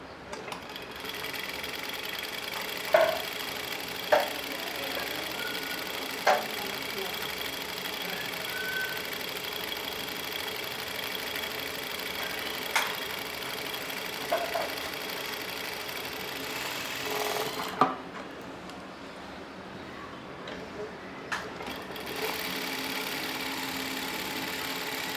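A sewing machine runs steadily through a double stitch for a long stretch, a soft, even mechanical whir with a few light clicks and brief pauses in the motor, heard alone at close range.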